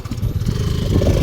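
Motorcycles pass on a mountain road on the way to Kumara Parvatha near Madikeri, a brief, close, low engine rumble that grows slightly louder over about a second.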